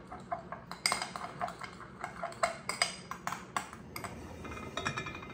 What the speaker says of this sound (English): Just gonna mix it really good.